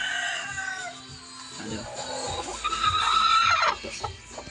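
A chicken brooding eggs clucks and murmurs softly nearby, with low rustling and faint background noise throughout.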